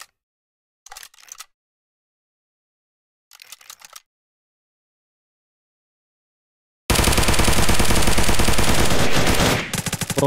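Gunfire in Unturned, a survival shooter game: two short bursts separated by silence, then a loud sustained stream of rapid automatic fire lasting nearly three seconds.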